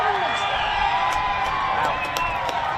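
A football grand final crowd at a country league match between the Dampier Sharks and Karratha Kats roars and cheers steadily from a distance, with scattered whoops and shouts rising above the din.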